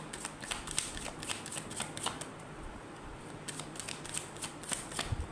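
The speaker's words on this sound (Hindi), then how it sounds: "पहले कार्ड्स निकालेंगे" Tarot cards are shuffled and drawn for a reading. Close, quiet riffling and flicking of cards comes in repeated bursts, with soft shuffling continuing between them and no one talking.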